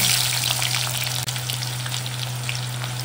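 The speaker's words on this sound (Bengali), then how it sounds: "পেঁয়াজটা হালকা ভাজতে ভাজতে আবার টমেটো কুচি দেবো" Chopped onions fry in hot oil with cumin seeds in a kadhai, giving a steady, loud, close sizzle with a low hum underneath and one brief dip near the middle.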